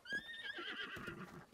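A horse neighs in a video game, a single clear whinny with a falling, wavering pitch, close and prominent, with faint hoof-like clopping underneath.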